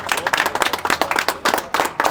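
Villagers in Parakar, Armenia, clap together in a close, lively burst of applause, with rapid overlapping hand claps throughout.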